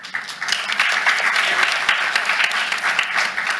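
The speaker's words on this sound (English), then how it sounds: "And to the panel, please give them a round of applause." A panel audience gives a round of applause at a philanthropy and public-private partnership event: dense, sustained clapping from a sizable crowd with a few sharper individual claps, lasting a few seconds.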